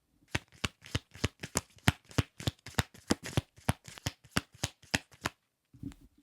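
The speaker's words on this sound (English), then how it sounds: "I will shuffle quickly and we will be starting real soon." A deck of tarot cards being shuffled quickly: a fast, steady run of crisp riffling snaps and slaps, close and clear, that stops with a soft shuffle at the end.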